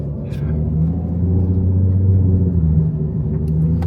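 Nissan 350Z with a straight-piped exhaust, running in limp mode, gives a loud, deep, steady rumble from close by, with the engine note swelling slightly midway.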